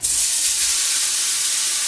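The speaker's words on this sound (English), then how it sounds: "You'll hear that nice sizzle, which is what you want." A steak sizzles in a hot oiled pan, a steady, bright hiss, loud and close, continuous with no break or voices.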